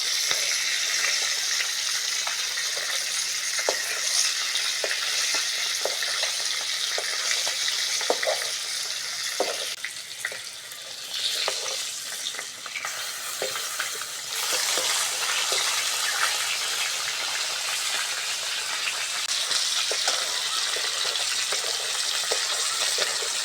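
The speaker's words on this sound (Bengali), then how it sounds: "মাছ ভাজা হয়ে গেছে, তুলে নেব" A whole fish fries in hot oil in a home kitchen, a loud, continuous hiss and sizzle with scattered crackles, briefly dipping midway as if the fish is moved or turned, then carrying on steadily.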